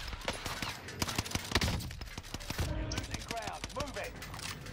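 Gunfire in a shooter game: bursts of sharp shots and rapid automatic fire crackle throughout, moderately loud, with a player's voice talking over parts of it.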